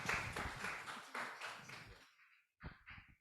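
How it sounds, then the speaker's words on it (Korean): An audience applauds after a lecture at a museum academy. The clapping is moderately loud and lasts about two seconds, then cuts off, followed by a few brief scattered claps. "힘찬 박수 부탁드리겠습니다"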